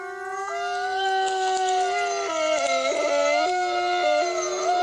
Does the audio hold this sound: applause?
no